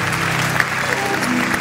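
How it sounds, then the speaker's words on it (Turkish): A studio audience at a Turkish comedy talk show applauds in a brief, steady burst of dense clapping that fills the whole moment without pause. "Alkışlar Zahit Özbek için gelsin arkadaşlar."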